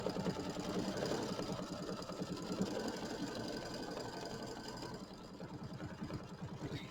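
An embroidery machine tacks a quilt piece down, giving a quiet, fast, even mechanical stitching patter that runs steadily the whole time, with no talking.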